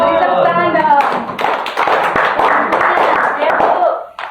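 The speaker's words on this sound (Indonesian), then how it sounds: "Beri tepuk tangan dong." Classroom students clap together in a lively burst of applause lasting about three seconds, loud and close, fading out at the end, with a few voices mixed in.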